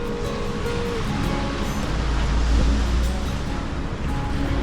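Surf washing onto Kalapaki Beach in Nawiliwili, Kauai, on a debris-strewn shoreline, heard as a steady, fairly loud rush with a deeper swell building midway, no talking.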